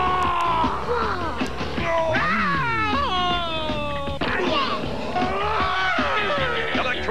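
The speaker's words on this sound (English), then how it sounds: "They scream when you stretch them and come back for more." Electronic stretch screamer toys shriek in a loud TV commercial, with warbling, sliding wails and yells layered over dense music and voices throughout.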